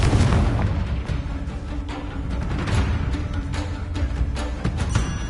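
Confringo fire-blasting spell exploding in Hogwarts Legacy, a dense, loud booming roar that rumbles on without a break, no speech.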